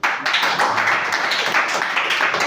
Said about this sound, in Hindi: अपने घर वालों के लिए जोरदार ताली बजाइए।